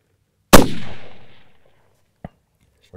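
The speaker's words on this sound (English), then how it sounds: "Let's live fire." A single sharp rifle shot fired live from a tripod-supported position on a hunting range, loud and close, with a long rolling echo trailing off over about a second, followed later by a brief distant knock.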